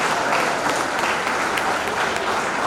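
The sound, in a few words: applause at a school award ceremony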